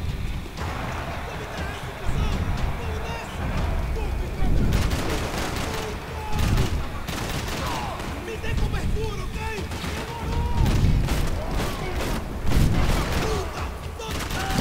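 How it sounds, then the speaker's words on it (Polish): Gunfire from the PC game Max Payne 3 rattles in loud bursts across the whole stretch, with heavy low booms and busy action noise, while someone talks over the top. "Jeden celny strzał."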